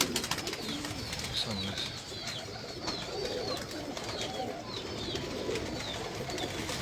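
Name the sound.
pigeons cooing on rooftop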